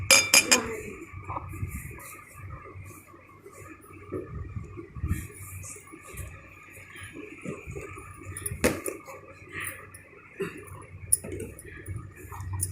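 All-purpose flour (maida) is stirred in a bowl, giving soft, irregular clinks and light scraping of a utensil against the bowl's sides, close and fairly quiet.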